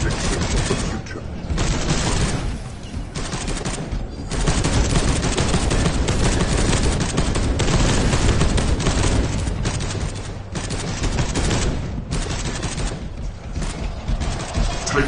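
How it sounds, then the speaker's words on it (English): Dense enemy gunfire from Space Hulk: Deathwing rattles on without pause, loud bursts of automatic fire and booms layered thickly for the whole stretch. "Taking enemy fire."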